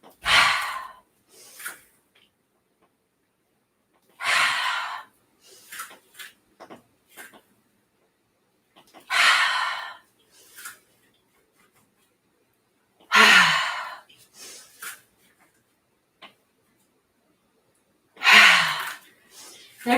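Deep breathing during a slow stretching routine for stress relief, with about five long, fairly close breaths spaced several seconds apart, each followed by softer short exhales and quiet pauses between them.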